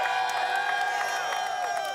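A crowd of wrestling fans cheers and shouts in a steady, dense roar with scattered whoops and claps, loud and continuous throughout.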